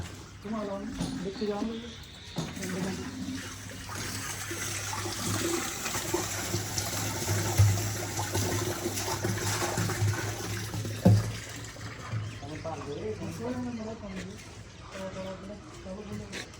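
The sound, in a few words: water sprayed on construction work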